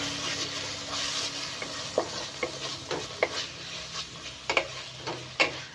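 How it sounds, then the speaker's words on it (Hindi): Noodles and vegetables being tossed in a pan after a splash of vinegar, a soft continuous sizzle broken by regular sharp scrapes and taps of a spatula, close and alone. "अभी इसे अच्छी तरीके से हमें मिक्स कर लेना होगा।"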